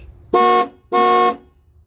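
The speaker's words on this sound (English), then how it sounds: "I'm actually going to apply positive power to this pin and you'll hear the horn go off." Two short, loud honks from a 1996 Chevy Tahoe horn, triggered by applying power directly to the circuit, close by, separated by a brief pause.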